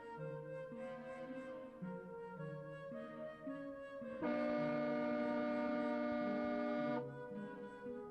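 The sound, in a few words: train horn in a video game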